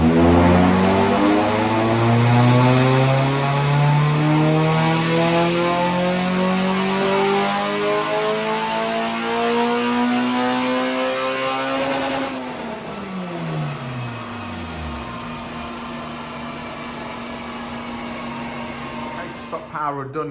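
Honda Civic EP3 Type R engine on a dyno power run, loud and close, revs climbing steadily through the gears in a long rising drone, then cutting off and winding down toward idle near the end.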